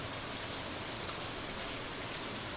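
Rain falls steadily in the Stardew Valley farming game: a soft, even hiss of drops that runs unbroken and fairly faint throughout, with no talking.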